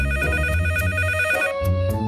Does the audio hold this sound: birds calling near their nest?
no